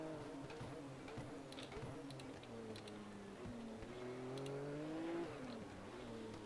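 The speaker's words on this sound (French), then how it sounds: "Regardez l'agilité de cette bagnole." A Mercedes SLS in a racing video game drives with a close, steady engine whine whose pitch climbs and dips through gear changes, joined by a few faint ticking clicks.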